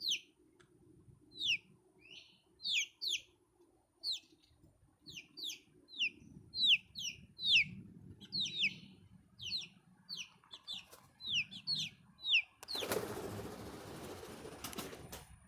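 Chicks and chickens settle to roost in a shed, giving repeated high peeping calls in quick clusters over soft low clucking, with a brief burst of rustling noise near the end.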